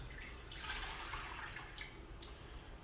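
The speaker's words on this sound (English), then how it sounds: "Our originating basin down below, we'll put some water into that." Water is poured into the lower basin of a small Archimedes screw model. It makes a faint, soft, continuous trickle and splash, heard alone.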